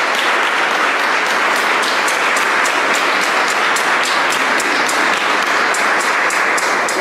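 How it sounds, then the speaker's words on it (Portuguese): An audience applauds a couple at an Easter Monday closing gathering, a loud, dense and unbroken round of clapping that fills the whole stretch. "pedi uma salva de palmas para este casal."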